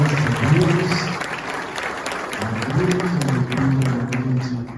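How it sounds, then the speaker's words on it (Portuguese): A church congregation in São Paulo claps together in worship while a voice carries on over it, the applause dense and close with a brief dip midway before resuming. "Você pode dar uma salva de palmas ao Senhor."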